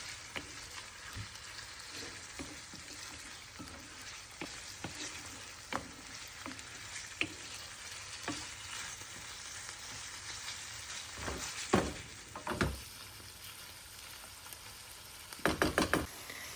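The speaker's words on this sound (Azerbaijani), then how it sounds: "Ətlə soğanı yaxşı-yaxşı qovururam." Meat and onions frying in a pan: a steady, quiet sizzle throughout, with occasional sharp clicks and scrapes of stirring and a few louder bursts near the end.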